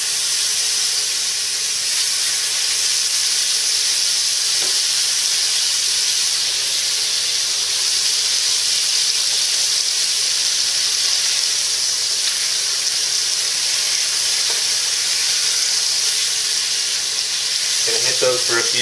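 Elk chops sizzle in hot bacon grease in a pan, a loud, steady, hissing fry that continues unbroken for nearly twenty seconds, with brief pops near the end.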